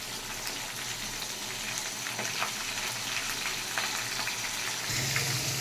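Dry red chillies, whole cumin seeds and a bay leaf fry in hot oil for aloo dum, crackling and sizzling steadily up close, with a brief louder burst of frying near the end.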